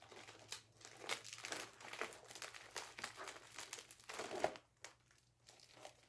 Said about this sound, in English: And then make sure that you tape all the way around.